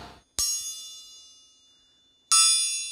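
Two sharp metallic strikes on an anvil, each ringing out loudly with a bright, long sustained tone that slowly decays.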